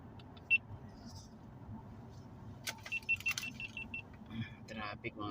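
A car sits in slow road traffic, its low engine rumble steady and muted from inside the cabin, with a few faint clicks, a jingle of keys and light movement sounds over it.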